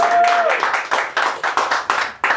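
Clapping from an audience welcoming two presenters onto a stage at a design talk: a run of distinct, fairly close claps in uneven bursts, with a short steady tone at the start.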